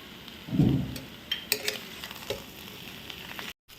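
Desiccated coconut is tipped into a pan of boiled potato curry, giving a soft thud and brief rustle, followed by a few faint stirring scrapes and light clinks in a quiet kitchen.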